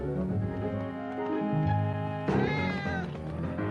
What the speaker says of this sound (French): Attention, un chat nous attaque.